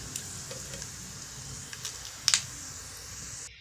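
Whole spices such as stone flower and cardamom frying in oil for a quick biryani, a soft, steady sizzle broken by scattered pops and one brief, louder crackling burst.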